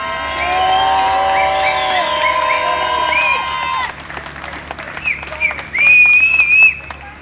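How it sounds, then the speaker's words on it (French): Outdoor crowd at a Palestine demonstration in Lyon cheers loudly with sustained high whistles and ululating cries, then breaks into scattered clapping and shouts, the noise rising again in a final burst. "et on peut s'applaudir."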